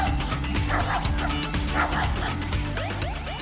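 Dog barking repeatedly in a rapid bow-wow rhythm with yips and whimpers mixed in, close and loud over a steady low background hum.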